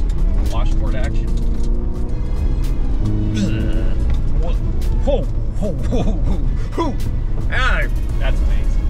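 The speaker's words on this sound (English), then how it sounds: "Some gravel road here. Washboard action." Chevy Colorado ZR2 Bison rolls over a washboard gravel road, a steady loud rumble and rattle of tires and engine running throughout, with people talking over it.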